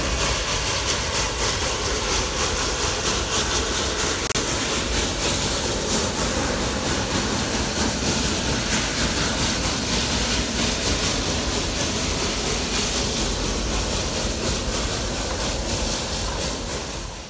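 A Heisler steam locomotive on a narrow gauge railroad in the Santa Cruz Mountains chugs steadily, a dense continuous rumble and hiss heard from nearby with no voices.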